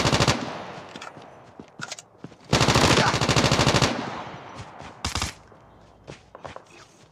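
Automatic gunfire in the mobile shooter game Call of Duty Mobile: a short early burst, then a loud sustained rapid-fire stream, followed by a brief final volley and scattered quieter shots.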